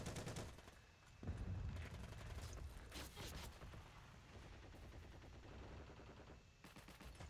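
Rapid bursts of gunfire from a sniper shooting video game fill the scene, dense and loud with overlapping shots and booms throughout, a brief lull near the start.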